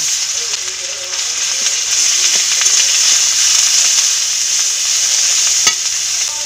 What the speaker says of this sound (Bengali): তেল গরম হয়ে গেছে, একটা তেজপাতা দিয়ে দিব, রসুন বাটা দিয়ে দিব, পেঁয়াজ বাটা দিয়ে দিব